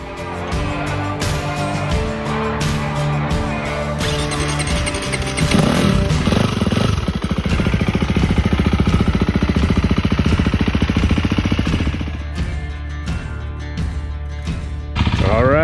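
A 2023 KTM 350XCF dirt bike with an aftermarket exhaust pipe ridden on desert single track and sand: a loud, buzzy four-stroke engine that revs up and down repeatedly, with rising and falling pitch throughout.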